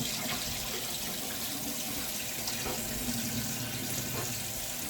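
Jack mackerel get rinsed under a running kitchen tap, a steady close splashing stream of water with faint irregular spatters as the fish are handled, no voices.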